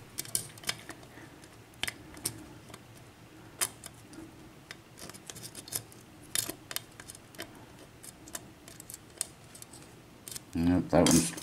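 A Lockwood 7-pin mortice lock being picked gives off scattered small metallic clicks and ticks, quiet and irregular, with a louder rattling clatter near the end.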